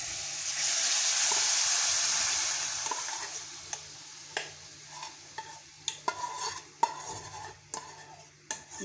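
Milk cream skimmed from boiled milk goes into a kadhai for making desi ghee, starting with a broad soft hiss, then scattered spoon clinks and scrapes against the pan.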